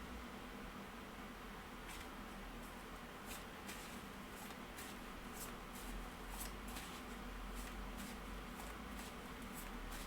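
Tarot cards are shuffled by hand in a run of crisp, repeated riffling bursts, close and fairly quiet over a steady background hiss, with no one speaking.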